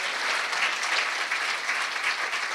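At a memorial lecture, an audience gives steady, dense applause that holds at an even, fairly loud level throughout without a break.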